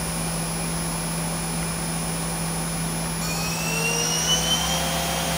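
An Okuma LB3000-EXMYC CNC lathe from 2008 spins its spindle up to around 4,000 RPM, a loud, steady mechanical whine and rushing hum with rising tones appearing partway through, alone without talk.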